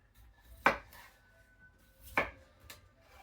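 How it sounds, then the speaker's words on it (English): A kitchen knife slices through raw potatoes for homemade fries, giving two sharp, close chopping knocks on a board about a second and a half apart, with quiet pauses between them. "All right, so I'm gonna cut these potatoes."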